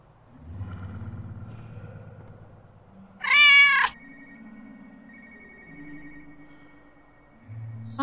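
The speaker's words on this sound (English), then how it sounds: "there is a beautiful, fluffy little kitty, Nya." A cat in Spooky's Jump Scare Mansion gives one short, bright meow midway through, standing out over a quiet rumbling game backdrop with a faint ringing tone.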